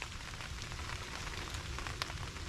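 Steady, dense rain patters on a tent during a heavy campout rainstorm, a continuous close hiss of drops with no voices.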